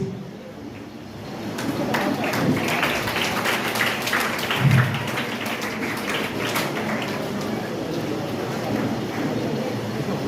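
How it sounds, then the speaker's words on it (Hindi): Students clap at a felicitation program for 10th and 12th graders, a dense, continuous patter of applause from a crowd that swells and holds steady, with voices murmuring underneath. "मैं देख रहा हूँ राइट साइड में बच्चियों की तरफ से तालियां बज रही हैं"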